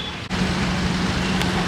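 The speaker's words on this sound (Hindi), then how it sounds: "बहुत ज़्यादा ट्रैफिक है।" Heavy road traffic on the route to Mussoorie rumbles steadily as a low, continuous roar of vehicle engines close by, with a brief dip partway through.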